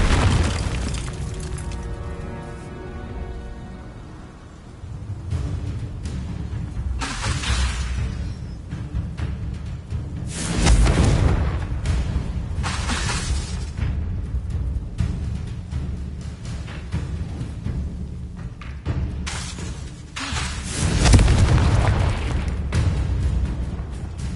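Confringo blasting spell explosions in a Harry Potter video game, several loud booming bursts with rumbling debris spread across a long stretch of game ambience and effects.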